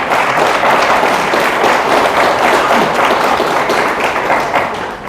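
A church congregation breaks into sustained applause during a worship service, dense clapping from many hands filling the room steadily for several seconds before easing slightly at the end.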